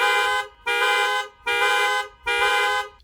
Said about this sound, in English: by activating both of my car's panic buttons, that's going to draw the attention of surrounding neighbors